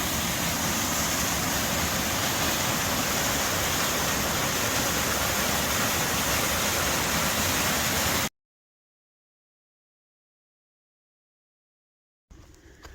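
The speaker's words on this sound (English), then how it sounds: "I just crossed this creek, and this is the end of the waterfall." Rushing water where a creek ends in a waterfall on a wooded Appalachian Trail stretch in New Hampshire: a dense, continuous roar, close and loud, that cuts off abruptly into silence before a faint return.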